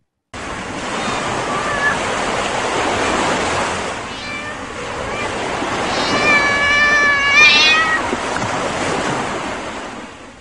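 Cats meow repeatedly over a steady roar of surf and wind, with the cries growing clearer and higher toward the end.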